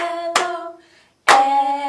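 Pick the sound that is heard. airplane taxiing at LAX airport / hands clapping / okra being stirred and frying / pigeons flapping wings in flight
hands clapping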